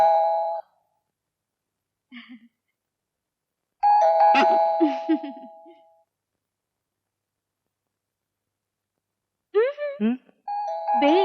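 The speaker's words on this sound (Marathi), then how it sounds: "बेल हं." A doorbell chimes in a comedy film scene, a loud ding-dong sounding more than once with quiet gaps, while people talk in between.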